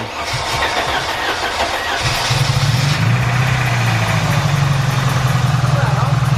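A 1986 Mercedes 190E Cosworth engine cranks and catches after new ignition work, settling into a loud, steady, rumbling idle while people talk nearby.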